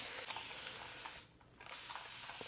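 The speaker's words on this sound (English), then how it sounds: "I start off by getting a spray bottle" A spray bottle hisses in a long continuous mist of water onto hair, pauses briefly, then sprays again, close and fairly soft.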